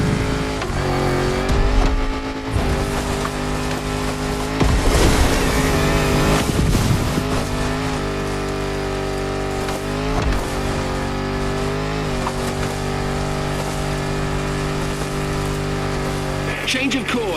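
Video game Land Rover Defender with a 400-horsepower engine under a 70-year-old bonnet, engine droning and revving steadily while driving, with pitch shifts as it accelerates and a voice speaking over it.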